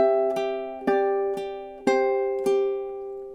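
A solo ukulele picks a gentle lullaby line, five evenly spaced plucked chords sustaining and overlapping at a calm tempo, heard up close without any speech.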